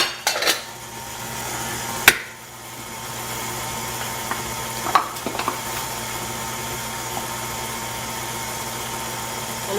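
A stand mixer with a paddle attachment beating eggs, a steady, moderately loud motor hum with a few sharp clinks of the paddle against the bowl, close by and with no one talking.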